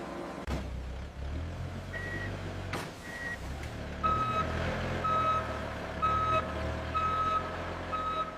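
A truck's reversing alarm beeps as it backs into a loading bay at a wool clothing factory. A few tones come first, then a steady run of evenly spaced beeps, about one per second, over constant industrial rumble.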